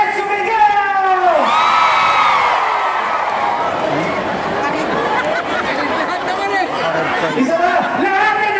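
A crowd at a campaign rally in Dagupan City, Pangasinan shouts and whoops loudly in a sustained wave of mixed voices, with a rising cheer at the start and steady chatter throughout.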